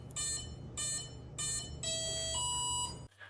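An Arduino Mega emits a series of bright electronic beeps after being plugged in: three short pulses followed by a longer sustained tone, close and loud, then abruptly silent.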